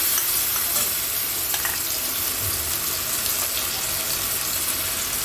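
Steady sizzling of vegetables frying in a pan for a soybean and potato curry, with occasional scraping and stirring sounds, continuous and fairly quiet with no talking.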